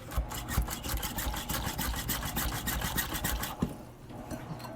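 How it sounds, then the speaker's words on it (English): An electric kitchen mixer runs while a Mediterranean chicken and butter rice dinner is being made. It gives a rapid, even mechanical whir with fast pulsing, fairly close, and eases off near the end with no talk. "I've got a mixer right here, my favorite one."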